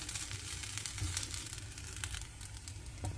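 Ragi vermicelli being sautéed on a stove with onion-tomato masala gives a steady, faint sizzle with soft crackles and scraping throughout.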